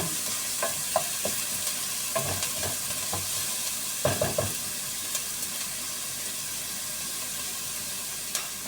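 Onions frying in a pan for a chicken corn soup, a steady close sizzle running throughout with scattered sharp clicks and scrapes of stirring, no one speaking.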